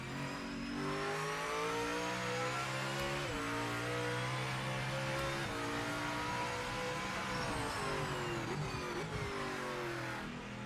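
LMDH and GTP race cars at Sebring in Project Motor Racing, engines revving loudly with rising and falling pitch as gears shift, a constant high-volume whine layered across the whole stretch.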